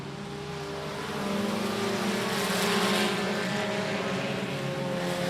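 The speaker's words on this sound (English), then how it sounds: "Derek Cates on the 580 running a smooth second as he takes the low line coming out of turn 2" Race cars lapping a short-track speedway during a regular race program at I-37 Speedway, a steady loud engine drone with harmonic whine that swells slightly midway, continuous without pauses.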